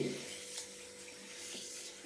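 Ragi (finger millet) being washed with running water in a kitchen, a steady close splashing and trickling of water that holds without pause through the short clip.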